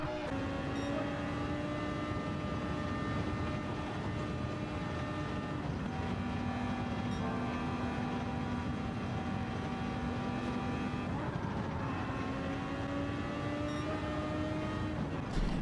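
A very fast car races around Broad Bean Raceway in a video game, its engine whining continuously at high revs, with pitch dropping and rising through corners and no talk over it.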